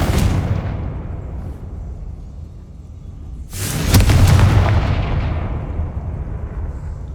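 A Confringo blasting spell from the Hogwarts Legacy video game going off as a heavy, booming explosion with a sharp crack and rumbling tail, following a fading earlier blast.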